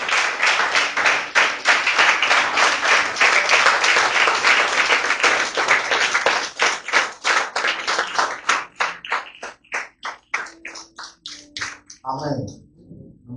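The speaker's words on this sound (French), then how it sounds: "On acclame très fort" A church congregation at a Sunday service applauds loudly, a dense sustained clapping that thins into scattered claps toward the end, with voices mixed in.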